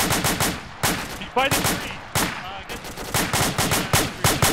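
Dense gunfire in the military shooter Arma 2: loud, rapid automatic bursts and single shots crack one after another, nearly nonstop, while a voice speaks briefly over the shooting.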